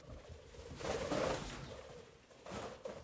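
Pigeons coo in soft, low, throaty bursts, two swells a moment apart over quiet background noise.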